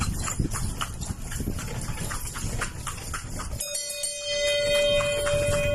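Horse hooves clip-clop in a steady, fairly close rhythm of sharp knocks, followed by a shift to a quieter stretch with a steady tonal hum.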